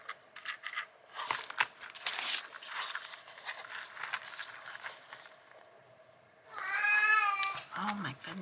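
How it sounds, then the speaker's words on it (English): A cat meows near the end, a clear drawn-out meow followed by a shorter one, after several seconds of paper crinkling and handling noises. "Oh my goodness, a kitty cat."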